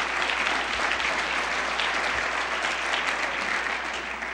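A conference audience applauds its sponsors, a sustained, dense round of clapping from many hands in a large hall, steady and loud throughout.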